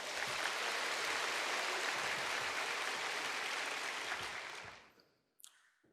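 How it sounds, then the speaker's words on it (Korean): A church congregation applauds during a Sunday service with a baptism, a broad sustained roar of clapping that holds steady and then fades out abruptly near the end, leaving near silence and a brief knock. "박수로 환영하십시다"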